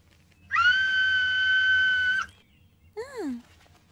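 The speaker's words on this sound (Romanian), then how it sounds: "Este un fluier. Un fluier." A whistle played with for a children's show gives one sustained shrill tone of nearly two seconds, then a short warbling falling whistle, close and clear against a quiet background.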